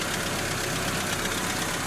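A Peugeot 505 ST engine running close by at a steady idle, an even rumbling drone with a faint knocking texture.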